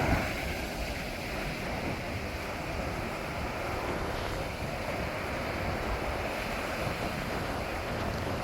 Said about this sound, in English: I love listening to the sound of the ocean